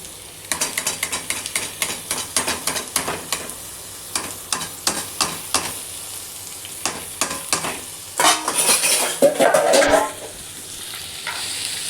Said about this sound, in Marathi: किमा घालून आणि परतून घेऊयात।